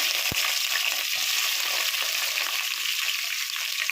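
Green chillies fry in hot oil for a gongura chicken curry, producing a loud, even, continuous sizzle with a single knock near the start.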